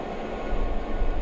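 A big museum train engine runs steadily with a deep low rumble and a broad, continuous wash of mechanical noise. It stays fairly loud and even throughout, with no voices.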